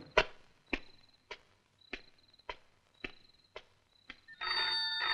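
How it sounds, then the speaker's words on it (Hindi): An old telephone bell rings in repeated sharp bursts at a steady rhythm, then a louder continuous tone comes in at the end. "टेलीफोन"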